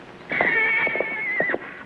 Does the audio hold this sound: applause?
no